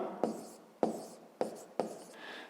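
Hand writing on paper during a fifth-grade math lesson: four distinct pen strokes or scratches at a steady pace, close and fairly quiet, with no talking.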